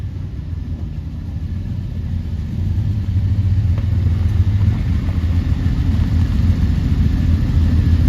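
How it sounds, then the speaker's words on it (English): Classic concours cars rolling up onto a show stage at Hampton Court Palace: a steady low engine rumble at idle and slow crawl, growing a little louder midway and holding close and even throughout. "Let's bring the two cars up onto the stage."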